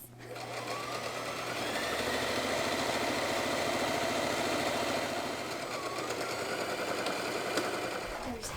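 A sewing machine runs steadily for several seconds, stitching pockets onto a skirt with a continuous rapid mechanical whir, fairly close and alone without talk.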